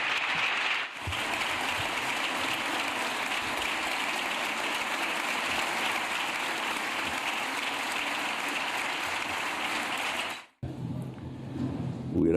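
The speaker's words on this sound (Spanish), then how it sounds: "el presidente era ovacionado por la mayoría de los parlamentarios" Parliamentarians in the Spanish Congress give the president a long ovation. The applause is steady and dense and sounds like rushing water, a dip breaks it near the start, and it cuts off abruptly near the end before a quieter room sound follows.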